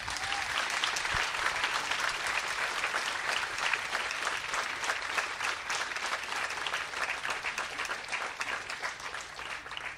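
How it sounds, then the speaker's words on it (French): Audience applause for author Robin Hobb at the Imaginales festival, a steady, dense wash of clapping from a large crowd that holds at full strength for the whole stretch without a break. "On l'applaudit bien fort."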